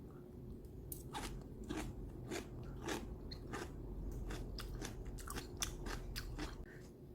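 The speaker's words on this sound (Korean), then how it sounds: "하나 한번 먹어보겠습니다. 양파하고 같이 먹어볼게요." Crunchy bites of freshly made cucumber kimchi eaten together with onion, a steady run of close, crisp crunches and chewing for several seconds with no talking.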